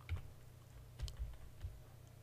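Soft keystrokes on a computer keyboard come in a few brief, uneven clusters, faint and close, with a low hum between the taps.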